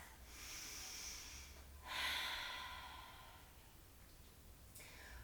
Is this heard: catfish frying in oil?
no